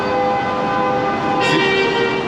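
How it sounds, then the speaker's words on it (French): City traffic in New York, a dense steady roar with a brief horn blast in the middle. "Si vous entendez tous les klaxons, oui, on est à New York."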